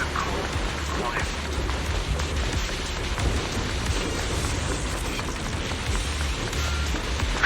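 Heavy rain in the video game Zenless Zone Zero, a dense, steady hiss of downpour drumming on surfaces, loud and continuous throughout, with a low rumble underneath and no clear talking.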